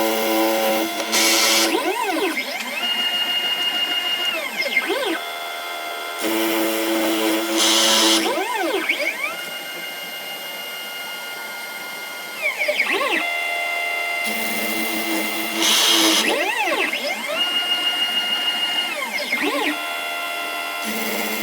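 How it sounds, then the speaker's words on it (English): A CNC spindle mills a carbon fiber ESC adapter plate, giving a loud steady whine with high tones that rise and fall as the cutter moves along and bites in repeated passes. "now we can run the spindle"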